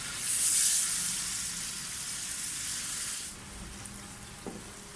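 Grated pumpkin for halwa roasting in hot oil, a steady close sizzle with faint stirring scrapes, louder at first and easing slightly toward the end, with no voices.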